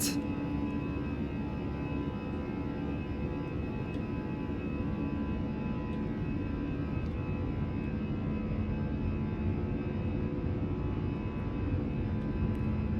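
Airbus A320 jet engines spooled to takeoff thrust in Microsoft Flight Simulator, a steady loud roar with a constant whine from the start of the takeoff roll, no voices.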